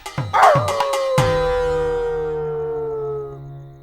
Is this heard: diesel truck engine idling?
no